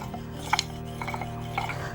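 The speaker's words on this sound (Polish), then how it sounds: "Wiercimy w ten sposób. Jest to taka przenośna wiertareczka" A portable hand drill bores into amber at a traditional amber-working craft bench, giving soft rubbing, rasping scrapes with a few sharper clicks, close and moderately loud, with no talk.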